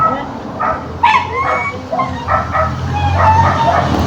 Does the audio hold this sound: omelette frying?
no